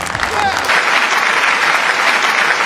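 Audience applause at a comedy show, a dense wash of clapping sustained throughout the short stretch, with a brief voice at the very start.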